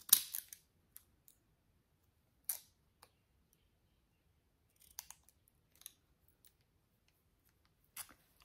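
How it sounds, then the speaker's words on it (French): Scissors cut paper for a handmade Easter postcard, with a few crisp snips spread out between quiet pauses, close and clear. "j'ai envie de découper, par contre, avec celui-là, en espérant que je vais couper droit."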